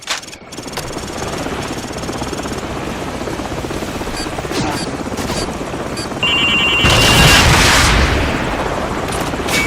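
A helicopter in Call of Duty 4: Modern Warfare roars loud and close, a dense constant rotor and engine wash that swells louder toward the end, with gunfire-like cracks and a brief tonal beep mixed in.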